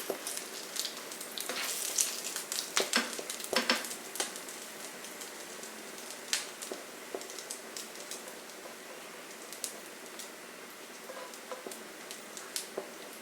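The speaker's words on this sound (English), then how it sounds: "Don't leave them, whatever you do, keep turning them. Right now all that pine nut flavour is coming out into the hazelnut oil" Pine nuts frying in hazelnut oil in a pan, a steady soft sizzle with scattered crackles and pops and occasional stirring scrapes, fairly close and even throughout, no talking.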